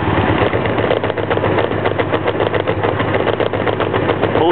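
Honda Magna V65 motorcycle engine on full choke catching and running, a loud, rapid, steady pulsing idle heard up close throughout.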